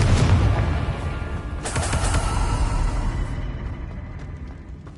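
Confringo blasting spell explosions in the Hogwarts Legacy video game, a loud burst at the start and a second sharp blast about a second and a half later, each trailing into a rumbling decay.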